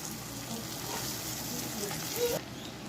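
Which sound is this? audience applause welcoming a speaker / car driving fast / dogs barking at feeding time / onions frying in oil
onions frying in oil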